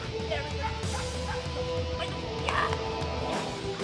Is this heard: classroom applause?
no